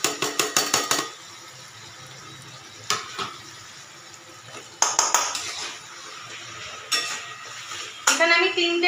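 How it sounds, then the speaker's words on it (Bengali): Spices, tomato, onion and green chillies being stir-fried in a pan for potol chinri (pointed gourd with prawns), with bursts of sharp spatula scraping and clatter over a steady sizzle, separated by quieter pauses. "এবার মশলাটাকে খুব সুন্দরভাবে কষাতে হবে।"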